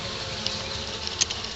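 Honey bees buzzing around a makeshift hive stand with a frame of eggs and brood in a small 5-frame nuc, a steady close drone of many insects with a few individual bees whining past.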